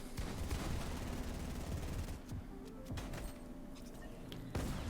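Rapid bursts of assault rifle fire from Fortnite gameplay in a competitive match, dense and continuous under game noise and commentary.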